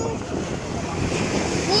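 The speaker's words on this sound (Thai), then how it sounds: "นี่เรามาเที่ยวทะเลบางแสนกันนะ" Sea waves wash steadily onto Bang Saen beach in Thailand on a rainy day, a continuous broad rush of surf mixed with wind noise, close and fairly loud.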